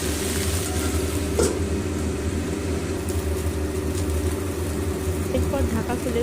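Potatoes and cauliflower fry slowly under a lid over low heat for a vegetarian Bengali dish, giving a muffled, steady sizzle that holds evenly throughout with a low background hum.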